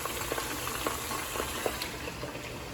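Meat and offal sizzle in a hot pan for plov, a continuous crackling fry with small pops and occasional stirring scrapes, close up.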